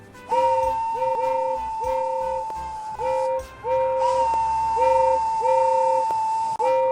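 A steam locomotive whistle blows repeatedly in short and long blasts, loud and close, with a steady hiss in the background.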